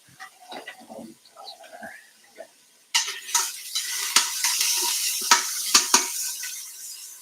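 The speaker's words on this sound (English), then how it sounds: "Well, so we got our onion sauteing." Onion sautes in coconut oil in a pan, with quiet handling noises at first, then a louder sizzle and a few sharp clinks of a utensil stirring against the pan.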